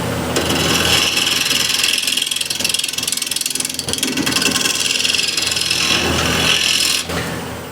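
A wood lathe spins at 1240 RPM while a one-inch square scraper cuts a walnut and cherry plate, producing a loud, continuous scraping and rasping drone that fills the whole stretch and breaks off briefly near the end.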